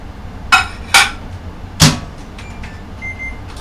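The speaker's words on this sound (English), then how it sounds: "So I'm going to microwave this for about 2 minutes." A microwave oven being loaded with poutine gives three sharp clunks of its door and buttons close together, followed by a faint electronic beep over a low, steady background hum.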